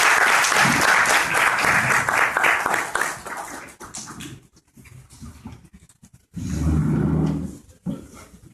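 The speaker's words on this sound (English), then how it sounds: "Let's give our city council candidates a big round of applause" An audience at a local candidate forum applauds city council candidates, a loud burst of clapping and cheering that fades, pauses briefly, then surges again in a second shorter round.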